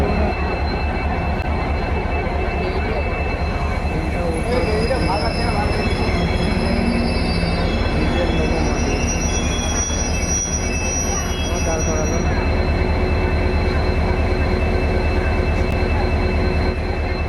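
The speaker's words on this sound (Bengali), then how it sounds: "এই মালগাড়ি পাস করার জন্য আমাদের ট্রেন আসতে" A diesel freight train passes through a station close by, its wheels squealing and rumbling continuously throughout, with faint voices in the background.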